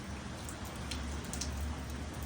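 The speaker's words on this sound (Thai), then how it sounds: "ฝนตกมาตั้งแต่ตอน 7 โมงเช้าเนาะ" Steady light rain pattering on wet surfaces over a city on a morning, in Auckland, a continuous even hiss with scattered nearby drops and no voices.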